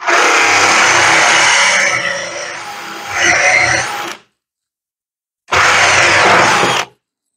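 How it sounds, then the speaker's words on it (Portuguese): A power drill with a drill bit bores a hole in wood for a homemade bar clamp. It runs loud and close for about four seconds, stops briefly, then whirs again for a shorter burst. "a broca, eu vou fazer o furo e transpassar para que eu não transpasse esse furo central"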